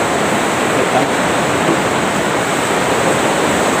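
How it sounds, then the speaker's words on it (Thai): Strong ocean waves rolling onto a beach make a continuous loud wash of surf, with steady broadband roar and no talking. "เสียงคลื่นแรงนะพี่น้อง"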